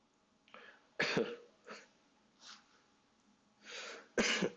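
Several coughs come one after another, close by, a couple of them sharp and forceful, with short pauses between them.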